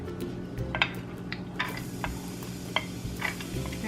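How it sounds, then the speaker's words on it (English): Garlic sizzling in a hot pan, a steady crackling hiss with scattered sharper pops and light clinks. "Hear that nice sizzling sound."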